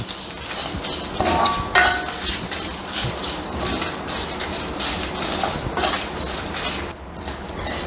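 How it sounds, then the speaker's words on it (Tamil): Grated coconut sautéed in a hot pan for a potato mochai kuruma gives a steady, close hiss and crackle that runs throughout without a break, with faint clinks of the pan mixed in. "பாருங்கள் சுருன்னு சத்தம் வருதுல்ல, அது கொஞ்சம் போகணும்"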